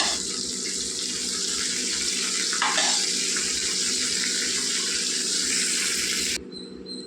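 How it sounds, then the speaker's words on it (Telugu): Hot oil with asafoetida tempering sizzles and crackles steadily in a pan up close for sorrel-leaf tomato dal, with a brief louder splash midway before the sound cuts off near the end. "చూడండి తాలింపు వేసేసాను"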